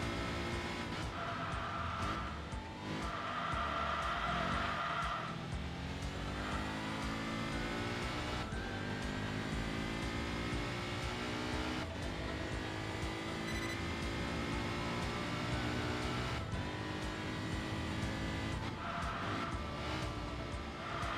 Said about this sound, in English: Oh, I love the sound of the cars in this game.